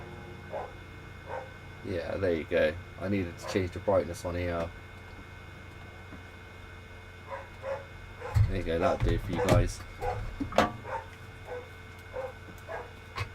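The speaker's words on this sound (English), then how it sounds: "Excuse the dog, I don't know why it's always barking." A dog barks in two bursts of rapid, repeated barks, fairly close, while someone talks calmly over and between them.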